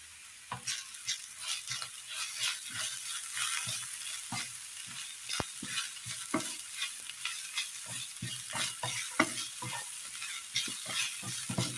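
Spiced masala of ground coriander, chili, turmeric and roasted fenugreek powder frying in a pan for a fish curry, a soft steady sizzle broken by repeated scraping strokes of a spoon stirring, close and fairly quiet with no talk.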